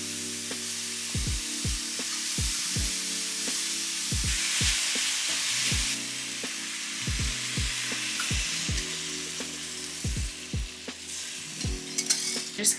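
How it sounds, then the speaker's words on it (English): Mushrooms and green vegetables sautéing in avocado oil in a cast iron skillet: a continuous hissing sizzle, with repeated low thumps and clinks of a utensil against the pan. "then we will saute those in the cast iron skillet with some avocado oil"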